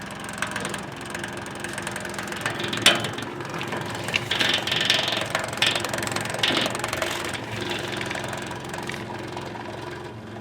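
A fuel pump on a Link Belt 2800 primes and cycles, giving a steady mechanical ticking and whirring with irregular clicks and rattles that hold at moderate loudness throughout.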